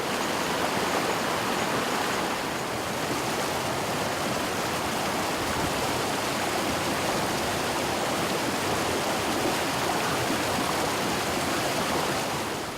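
Foaming hill stream rushing downhill past wet paddy fields, a steady, dense broadband roar of churning water that stays constant and close throughout, with no voices.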